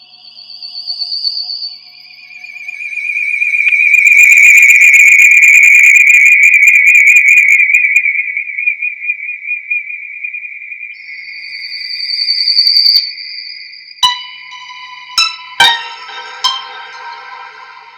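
Digital synthesizer with a science-fiction film feel: a long, loud, pure sliding tone with high whistling layers, then fainter wavering tones and a few sharp metallic pings near the end, no voices.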